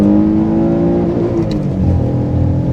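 Alfa Romeo 147 GTA with its Busso V6 is held at high revs against the rev limiter, a loud, close, steady engine drone with a strong harmonic whine and no talk.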